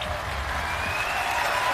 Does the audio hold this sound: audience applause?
yes